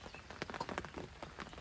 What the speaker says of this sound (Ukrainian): Дощ.